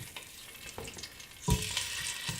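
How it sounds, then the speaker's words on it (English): Chicken thighs and drumsticks sizzle and crackle in a hot pan for chicken stew, a steady frying hiss with a brief louder burst midway, no voices. "just a gentle sizzle"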